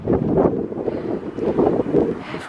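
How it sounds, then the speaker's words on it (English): Strong wind buffets an outdoor microphone on a high viewpoint over Madrid near the Royal Palace, a steady, loud low rumble with gusty surges and no other sound coming through. "This video is way too windy for you to actually hear me."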